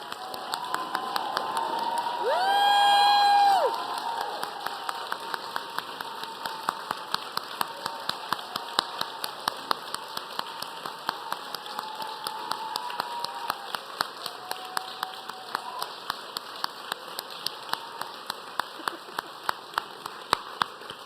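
Audience at a 2023 New York awards event for abortion providers applauding: steady, rhythmic crowd clapping with a short swell of cheering near the start, heard from a distance.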